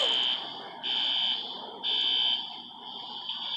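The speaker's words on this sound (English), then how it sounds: "Why is it going off again?" A waterlogged fire alarm panel sounds a loud, steady high electronic tone in repeated long bursts, each about a second long, with a brief dip between them and no voices.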